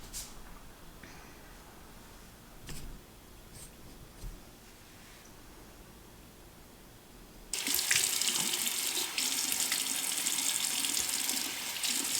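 Cold water runs steadily from a bathroom tap for face and eye splashing during an early-morning routine, starting loud and close after a quieter stretch of faint handling noises.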